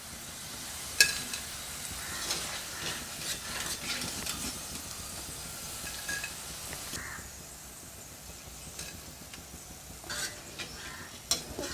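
Potatoes shallow fry in oil with a faint, crackling sizzle and scattered ticks and pops, a quiet, uneven frying texture that lightens partway through.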